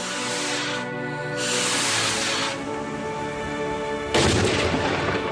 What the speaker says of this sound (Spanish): No importa qué complejos sean, todos los fuegos artificiales están basados en un efecto de reacción en cadena.